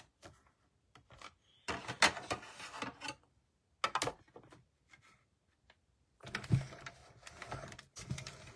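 Mini cut and emboss machine running a die through paper for card making, heard as several bursts of clattering, rolling mechanical noise with short quiet gaps between them, close and fairly soft with no talk.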